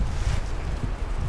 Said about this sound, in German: Ist ein bisschen windig.